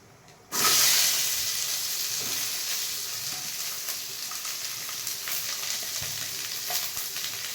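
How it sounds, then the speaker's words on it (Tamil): Onion, green chili and curry leaves for a soya chunks dish hit hot oil with a sudden loud sizzle, then keep frying in a steady hiss with faint stirring scrapes. "நெக்ஸ்ட்டு நமக்கு தேவையான வெங்காயம், பச்சை மிளகா, கருவேப்பிலை, இது 3 சேர்த்துக்கோங்க"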